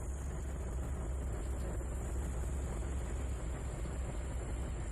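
A locomotive engine idles in the Trainz 2019 railroad game, giving a steady, continuous low rumble with a faint hiss above it. It runs unchanged throughout, with no talking.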